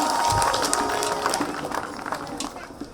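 An audience at a village drama performance claps. The applause starts dense and fairly loud, then thins into scattered claps over a few seconds, with voices in the background.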